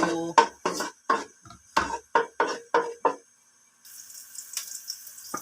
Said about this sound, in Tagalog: Mag-isa-gisa na tayo.